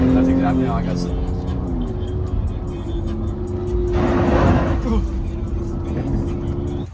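A Porsche Turbo S passes at a car meet with a steady engine drone and a brief swell of road noise as it goes by. A voice speaks over it.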